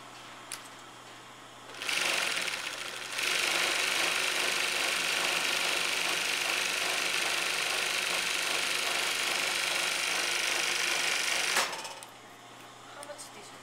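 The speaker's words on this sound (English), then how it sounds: "I'm just going to overlock the seam allowance of the sleeve." An overlock sewing machine serges the seam allowance of a blouse sleeve in one long, steady run of rapid stitching that starts and stops abruptly, with quiet room tone at either end.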